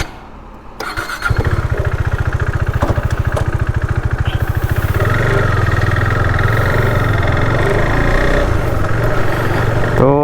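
Motorcycle engine starts after a brief crank, then settles into a steady, loud, close throbbing idle and pulls away, engine note rising slightly as the ride begins on a road near Ranchi, Jharkhand.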